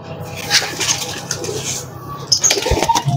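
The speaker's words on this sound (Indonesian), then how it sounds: "Banyak banget burungnya, kelihatan burungnya amat." Pigeons cooing in a crowded loft at a pigeon seller's place in Brebes, soft layered coos and bird calls running throughout with a brief flutter, close and fairly loud.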